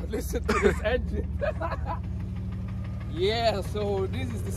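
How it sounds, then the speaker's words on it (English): The engine of a Peugeot 406 DTM-style taxi idles steadily with a low, even rumble, while people talk nearby over it. "Yeah, so this is the sound of the engine."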